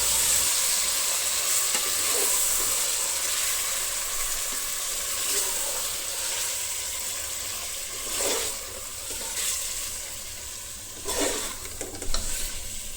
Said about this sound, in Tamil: ஒரு அஞ்சு நிமிஷம் அந்த எண்ணெயிலேயே அந்த சிக்கனை நல்லா வதக்கணும்